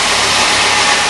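A Cavalier Z24 2.4 engine idles smoothly and loudly up close after a water pump and timing chain replacement, a short continuous hum with no talk over it.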